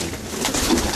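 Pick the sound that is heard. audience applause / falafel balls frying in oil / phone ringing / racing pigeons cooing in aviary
racing pigeons cooing in aviary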